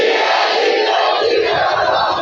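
Large rally crowd at a Baloch political gathering shouting a slogan in unison, a loud, dense burst of many voices, close and sustained for about two seconds.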